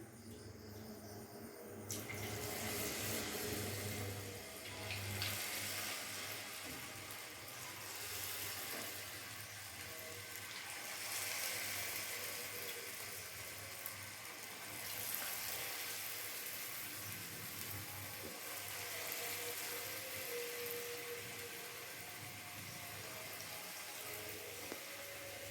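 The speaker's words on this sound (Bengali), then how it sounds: "আমি কিন্তু সব চিকেন পকোড়াগুলো ভাজলাম" Chicken pakoras deep-fry in oil over medium to high heat, giving a steady, soft, even hiss that runs throughout with no speech.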